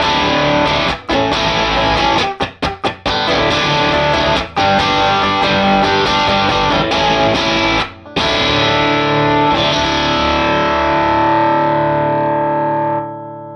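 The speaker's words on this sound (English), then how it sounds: "there you have it, the Heavy Electronics Red Eyes Overdrive pedal" Distorted electric guitar chords ring out loudly through a Heavy Electronics Red Eyes Overdrive pedal, with a few quick choppy strums early on, then long sustained crunchy chords fading out.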